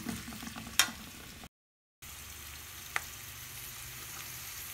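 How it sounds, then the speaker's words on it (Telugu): Onions frying in a pan, a low steady sizzle with a couple of sharp utensil clicks, quiet and close, broken by a short silent gap partway through. "ఇప్పుడు ఆనియన్స్ బాగా ఫ్రై అయినాయండి"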